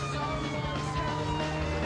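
An ambulance siren in the video game APB Reloaded wails in a continuous tonal sweep, loud and close, with a low engine hum beneath it.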